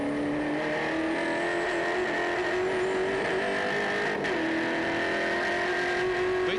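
NZV8 race car at Timaru Motor Raceway braking and downshifting into the hairpin, a loud, sustained V8 engine note that holds steady, drops briefly as gears change, then pulls on, with no talk.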